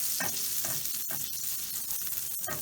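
About a tablespoon of butter melting in a pan as a filling for twice-baked potatoes begins, a steady close sizzle and frying hiss with light stirring scrapes over it.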